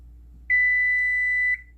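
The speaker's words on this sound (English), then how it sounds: "our timer has ended up, so I'll have to cancel it" A kitchen oven timer sounds one steady, clear electronic beep lasting about a second after broiling salmon fillet, heard close and alone in a quiet room.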